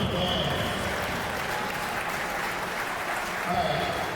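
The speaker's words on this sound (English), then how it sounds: "give these guys a warm round of applause" A crowd at a table tennis team championship finals gives club members a warm round of applause, a dense, even wash of clapping sustained throughout without words over it.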